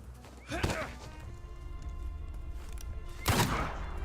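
Two sharp gunshots ring out a few seconds apart in the video game O Taumaturgo over a low background hum, each a brief punchy crack with a short tail.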